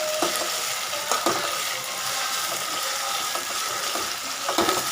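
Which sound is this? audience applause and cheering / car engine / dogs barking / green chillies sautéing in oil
green chillies sautéing in oil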